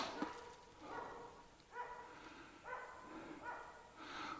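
A dog barks several times at a distance outdoors on an overnight fishing trip, faint repeated yaps spaced about a second apart over quiet background.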